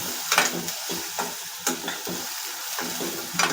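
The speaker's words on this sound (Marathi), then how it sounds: "आता साईडला हिंग टाकून घेतला आणि आता कांदा चांगला परतून घ्यायचा" Onion sautés with asafoetida in a pan, a continuous light sizzle broken by quick spoon scrapes and small taps against the pan as it is stirred.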